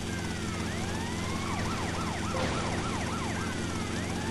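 Wailing police sirens from GTA Vice City sweep up and down repeatedly over a steady engine drone, several overlapping sirens growing loud in the middle.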